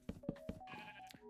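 Sheep bleat in the video game Minecraft, three short close bleats in quick succession followed by a softer drawn-out call, quiet and alone.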